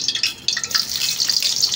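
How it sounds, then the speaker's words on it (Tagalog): Onion dropped into a hot frying pan sets off a bright, hissing sizzle that jumps up sharply and then holds steady and close for over a second. "Lalagyan natin yung sibuyas."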